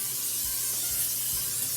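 Cooking spray hissing from an aerosol can into a bundt pan, a short steady spray close by lasting under two seconds.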